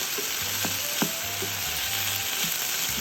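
Onions and lardons sizzle in a frying pan with a steady crackling hiss, broken by a few soft utensil taps and scrapes as they are stirred.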